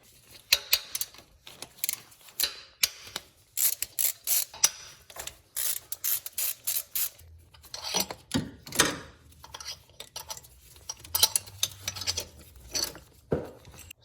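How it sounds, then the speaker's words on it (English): A hand ratchet removes bolts from a Subaru STI engine, sounding as a close series of quick clicking ratchet strokes in irregular bursts, with soft metallic rubs and pauses between runs. "I'm gonna take the 4 bolts out of the other one as well."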